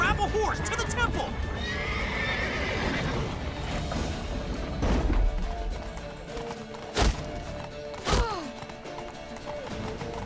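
Horses gallop with rapid clip-clop hoofbeats and loud neighs during a frantic rush through a Witcher 3 game scene, with busy crashing game audio and shouting layered over them.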